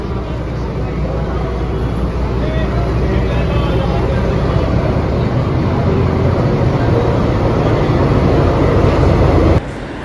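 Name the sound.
Saraighat Express train arriving at Howrah station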